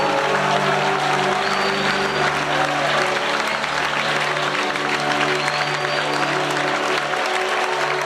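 A congregation at a Pentecostal church retreat applauds steadily and loudly, a thick wash of clapping over a sustained musical drone that holds underneath the whole time.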